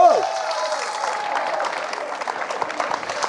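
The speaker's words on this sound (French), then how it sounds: "Vous pouvez applaudir quand même." Scattered clapping from an audience starts just after a brief sung note and builds lightly into thin applause.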